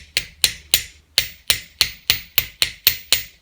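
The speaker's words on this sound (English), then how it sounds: "you can see that while I'm hammering these, the wire's flattening out" Jewelry wire for ear wires is struck with a hammer to flatten it, giving about eleven sharp metallic taps in a steady rhythm, close and clear with quiet gaps between blows.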